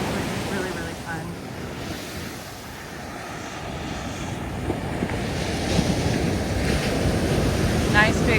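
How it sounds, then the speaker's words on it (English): Big ocean waves with a strong rip tide break on a beach at Thornhill Broome campground in Point Mugu State Park, California. The surf roars loud and continuously, and wind buffets the microphone throughout. "Nice big waves, quite a bit of a rip tide"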